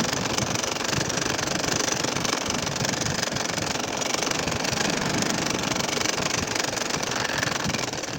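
An ordinary household sewing machine stitches curved lines across a nakshi kantha quilt, giving a steady, dense, continuous mechanical whirr and rattle, close and loud throughout with no breaks or speech.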